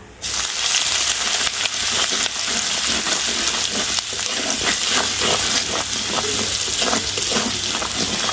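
Cumin seeds and ginger hit hot oil for a paneer curry and set off a loud, steady, close sizzle that crackles and spits continuously from the first moment to the end.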